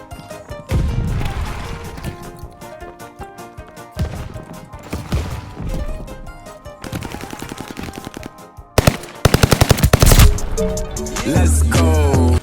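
The welding gun in the shooter game Vanguard fires loud, fast automatic bursts with crackling impacts, punctuated by heavier blasts and action clatter in a busy game mix.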